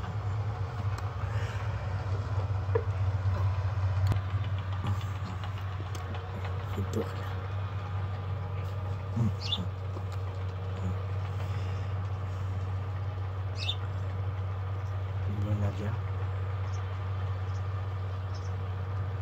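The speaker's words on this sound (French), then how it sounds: "Avec un tracteur New Holland." New Holland farm tractor engine idling with a low, steady drone throughout, faint scattered noises and occasional squeaks over it.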